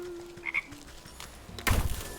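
Frog croaks sound in the video game Wytchwood: a few short calls over quiet ambience, then a louder burst of croaking near the end.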